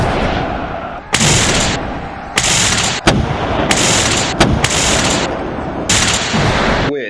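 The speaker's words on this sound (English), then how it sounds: "the French left-hand division moves forward, unlimbers their guns, and starts to open fire on the Russian ridgeline positions" Artillery guns of a French division open fire on Russian ridgeline positions during the battle for Leipzig: loud, repeated booming blasts burst out every second or so over a dense, continuous roar of battle noise, with no voices.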